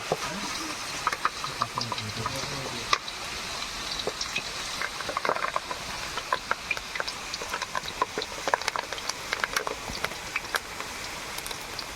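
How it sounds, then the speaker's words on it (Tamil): Fish fry (meen varuval) crackles in hot oil, with dense, irregular pops and spatters over a steady bubbling hiss, moderately close and continuous. "காஞ்சி போச்சு இப்போ நம்ம மீனை போட்டுடலாம்"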